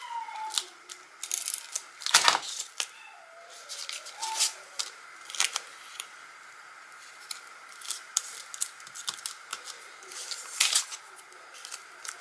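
Scissors snipping away excess paper from a handmade card, with crisp irregular cuts and rustling of paper at close range, one sharper crunch near the start.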